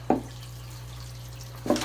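Water drips from a freshly repotted bonsai tree after a small squirt from a watering bottle, two soft splashy drops landing near the start and end amid a faint steady background hum.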